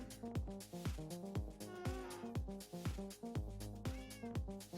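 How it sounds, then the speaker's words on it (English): A cat in the video game Minecraft meows several times over steady plucked, rhythmic background music, with the calls moderately loud and spread through the passage. No speech. "hello, cat. Sit down."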